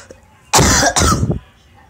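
A single person coughs twice in quick succession, loud and close, the harsh bursts standing alone against a quiet room.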